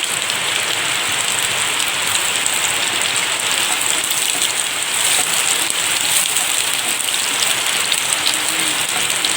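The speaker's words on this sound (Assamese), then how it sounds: "পিঁয়াজখিনি ৰঙচুৱা হোৱাকৈ ভাজিম।" Dense, steady sizzling hiss of onions frying in hot oil, loud and close, continuing unbroken with no voices.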